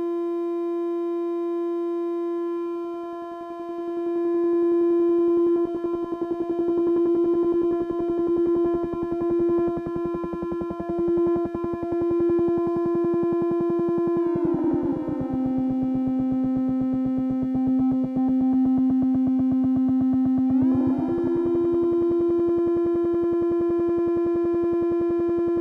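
Strega synthesizer drone with time modulation: a steady pitched tone with stacked harmonics that wobbles and shifts, dropping to a lower pitch midway before jumping back up, loud and continuous with no voices.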